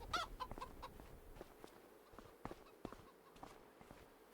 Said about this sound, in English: The old rooster.